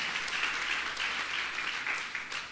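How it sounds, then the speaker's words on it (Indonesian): A church congregation applauds steadily, a dense wash of clapping that holds at a constant level throughout with no talking over it. "Berikan tepuk tangan."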